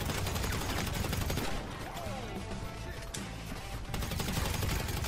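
Rapid bursts of video game gunfire from GTA V Online crackle almost continuously, loud and dense, easing briefly in the middle before resuming, with a voice talking underneath.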